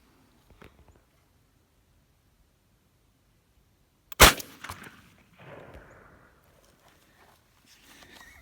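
A single sharp shotgun blast from a youth turkey-hunting practice shoot using a Federal TSS number 9 turkey load cracks out loud and close after a quiet pause, followed by faint rustling and movement.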